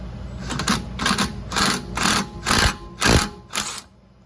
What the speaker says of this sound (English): put your impact wrench on it. It should break loose.